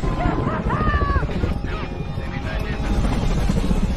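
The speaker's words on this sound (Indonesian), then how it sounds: "Dari kejauhan, X mendengar suara helikopter" A helicopter thunders close and loud in a dramatic action scene, its deep rotor chop sustained throughout, with whistling tones and faint voices layered over the roar.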